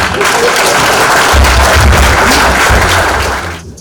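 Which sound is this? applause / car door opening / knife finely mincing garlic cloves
applause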